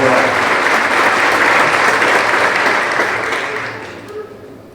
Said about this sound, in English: Please give them a round of applause for their work